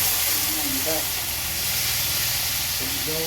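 Onions sautéing in a pan for a Filipino ginisa of wild flowers, giving a steady, loud, close hissing sizzle throughout while people talk over it.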